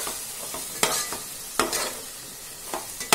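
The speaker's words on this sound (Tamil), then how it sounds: "நல்லா வதங்கட்டும்." Masala spices (chili powder, coriander powder and garam masala) sizzle in a frying pan with a soft steady hiss, broken by several sharp scraping strokes of a spoon as the mixture is stirred, close up and with no voices.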